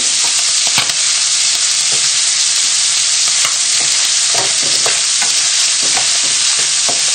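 Chicken livers and bacon fry in a pan with a loud, dense, continuous sizzle and spitting, close up, with scattered clicks and pops scattered through the whole stretch and no talking.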